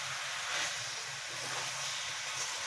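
Village-style chicken with potatoes and tomatoes sizzles in a pot as it is stir-fried, giving a steady, faint hiss with no talking.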